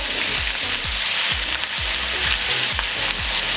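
Whole spices (star anise, cumin seeds, black peppercorns, cloves and a piece of cinnamon) hit hot oil for a chicken korma, producing a steady, loud close-up sizzle with soft repeated thumps and stirring underneath.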